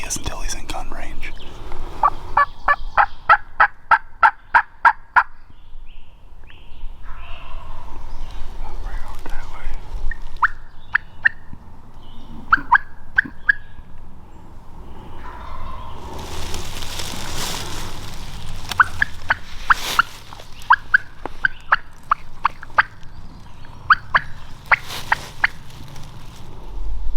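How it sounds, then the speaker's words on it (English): A wild turkey in a field gobbles repeatedly in sharp, rattling bursts, some clear and others more distant, between stretches of quiet rustling and faint whispering from hunters nearby. "We heard him gobble."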